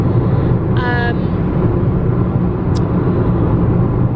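A car driving along, heard from inside the cabin as a constant loud low road and engine rumble, with a brief chime-like tone briefly on top.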